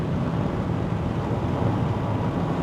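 Wind rushes through a slightly opened window of a moving 2026 Proton X90 SUV, a steady loud broadband roar with low buffeting rumble throughout.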